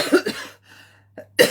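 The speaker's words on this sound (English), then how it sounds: "It says it's like I want to cough" A couple of short coughs close up, followed by a pause and another cough.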